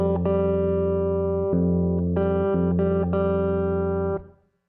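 A sequence of plucked guitar notes and ringing strings in a steady rhythm, sustained tones changing every half second or so, then fading to silence.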